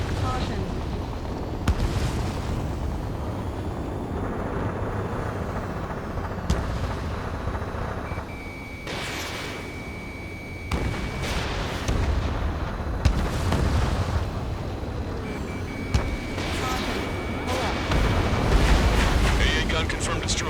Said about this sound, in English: Strider 1, missile launched